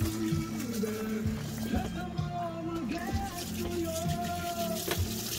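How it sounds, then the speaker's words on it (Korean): Sea bass being washed in running water while camping, with a steady splash and trickle throughout and people talking over it. "거기 농어 씻어"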